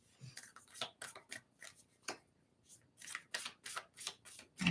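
Oracle cards shuffled quickly in a series of crisp riffling bursts with brief pauses, close and fairly quiet.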